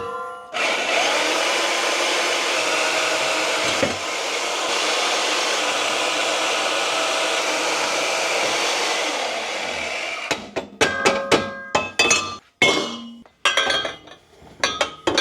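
Exhaust pipes on an E30 M3 project car with an S54 engine are cut just before the bend with a loud, steady, high-pitched power tool whine for about ten seconds, followed by clanks and clinks of metal being handled.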